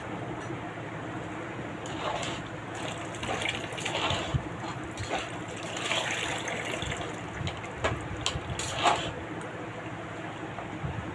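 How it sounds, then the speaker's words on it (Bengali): Water splashes and gushes steadily as it is poured over a person's head, with a continuous wet rush and occasional louder spills throughout. "বাইরের মাথায় পানি ঢালতেছ?"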